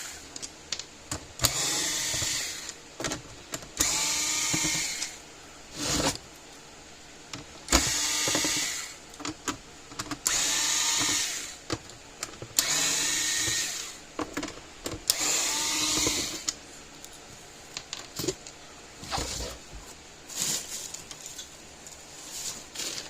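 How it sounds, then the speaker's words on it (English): Screws being backed out of the rear housing of a Patriot Solar Guard SG155 solar fence charger with a power screwdriver, several whirring bursts of a second or two each separated by pauses, close and fairly loud with no talking. "take all the screws out the back"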